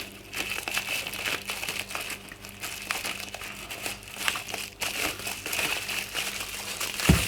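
Bubble wrap crinkles steadily around a Company Interiors business card being packed with a moss frame sample, a dense close crackle running throughout with a sharper crunch near the end.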